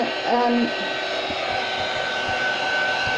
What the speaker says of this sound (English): If you haven't got one of these heat guns